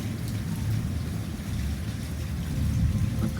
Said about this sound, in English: Do you hear all that thunder right now?